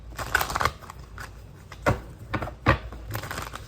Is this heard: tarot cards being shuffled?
yes